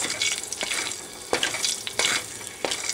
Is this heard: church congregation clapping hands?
no